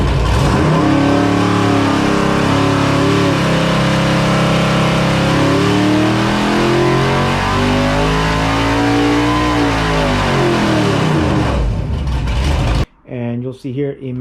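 A 7.0-liter stroked LS V8 on an engine dyno revs up to 6,500 RPM, loud and close, climbing then dropping through a long pull before cutting off abruptly, followed by brief trailing engine bursts.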